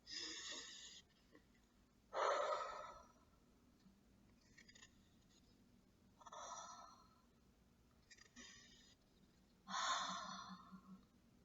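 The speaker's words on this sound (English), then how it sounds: "we would take 3 deep breaths" Three slow, deep breaths for calming down, each a soft airy inhale followed by a longer exhale. Quiet and close, with gaps between them and no other sound.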